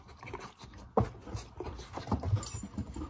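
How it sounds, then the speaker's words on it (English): Several dogs arriving indoors, panting rapidly and close by, with a sudden thump or patter of paws and soft whimpers mixed into the steady breathy rhythm. "here come the dogs"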